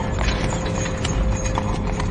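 Horses pulling a carriage clop along at a quick, steady trot, their hooves loud and close over a rumbling rolling sound, with no clear neigh standing out.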